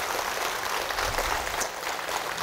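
A church congregation applauds together, a soft, even wash of many hands clapping, fairly distant and steady for a couple of seconds with no voices on top.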